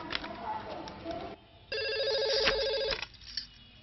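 A telephone rings in a repeated electronic ring pattern for a couple of seconds and stands out clearly, with a dramatic scene's muffled background sound before it.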